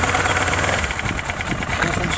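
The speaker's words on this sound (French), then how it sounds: "Bon fonctionnement avec la mise en route du moteur." A motorcycle engine starts and settles into a steady idle during a pre-ride check for a motorcycle licence test, a continuous mid-pitched rumble filling the whole stretch close by.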